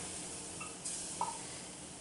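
Steady frying sizzle of butter in a hot pot, a continuous soft hiss with a couple of brief clinks, no voices.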